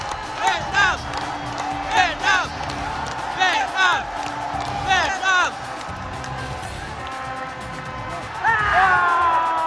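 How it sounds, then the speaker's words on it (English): A stadium crowd at a Vietnam football match against Iraq roars steadily, with surging cheers and whistles rising and falling, under a voice talking over it. "the crowd is really starting to get into this game"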